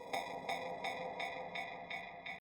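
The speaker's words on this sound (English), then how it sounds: "So those glitch Vox samples, they sound like this." Glitchy vocal samples in Logic Pro repeat as a steady stuttering pulse, a quiet sustained buzzy tone chopped about three times per second.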